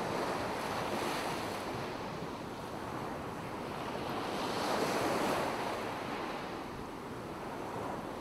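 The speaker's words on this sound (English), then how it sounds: "as you watch the waves roll." Ocean waves rolling onto shore make a continuous broadband wash that swells and eases, with wind noise on the microphone throughout.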